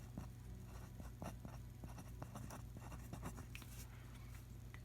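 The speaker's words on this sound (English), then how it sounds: "So I'm going to write left skewed." A pen scratches and taps across a graph worksheet in short, irregular strokes, faint and close over a steady low hum.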